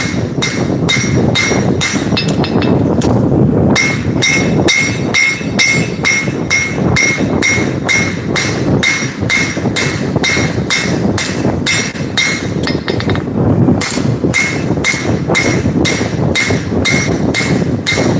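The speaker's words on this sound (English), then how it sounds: "Basically right now what I'm doing is I'm fullering it in the middle" A blacksmith's hammer fullering hot metal on an anvil, using the rounded side of the hammer: loud, sharp ringing strikes repeating in a fast, steady rhythm with only brief pauses, close up and without talk.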